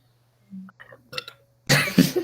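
A loud, rough burp bursts out after a few quieter throaty sounds and a brief low hum, close and abrupt.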